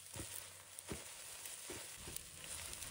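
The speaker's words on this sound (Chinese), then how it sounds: "这时用锅铲轻轻翻炒，将鸡蛋划散成小块" Eggs stir-fry in hot oil in a wok, a steady quiet sizzle broken by a few soft spatula scrapes and taps.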